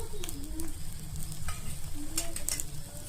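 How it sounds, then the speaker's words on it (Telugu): An omelette fries in a modest amount of oil in a pan, giving a steady close sizzle with occasional scraping and stirring sounds and no talk. "ఈ ఆమ్లెట్లో దానికి సరిపడేంత ఆయిల్ వేశాను నేను."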